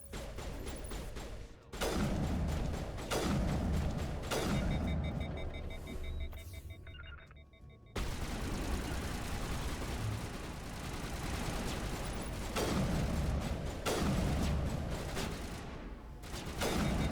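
Turret gunfire in the Mass Effect Legendary Edition video game, repeated loud bursts and explosive impacts in a dense, continuous battle din with brief lulls, and no voices over the shooting.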